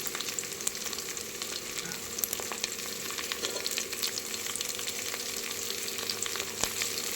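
Curry leaves and coriander fry in a mix of oil and ghee, giving a steady, dense crackling sizzle with occasional sharper pops, close and continuous throughout, with no voices.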